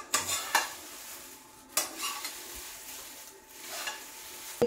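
Areca nut frying in ghee crackles softly while a spoon stirs and scrapes the pan in several sharp bursts, close and fairly quiet, with no talking.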